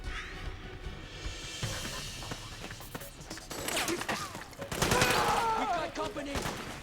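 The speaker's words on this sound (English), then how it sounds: "Sending reinforcements now. Suppressing fire." Gunfire from the Metal Gear Solid 4 video game, a continuous stretch of rapid shots and impacts that grows louder and denser toward the end, layered with game effects and background sounds.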